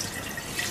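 Liquid poured from a bowl down a kitchen sink, a soft, steady trickle and splash of water running into the drain, faint and continuous.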